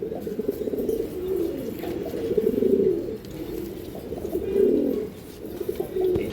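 Several green-necked breeding pigeons in a farm loft give low, throaty coos that swell and fade in repeated phrases, heard close and steady throughout.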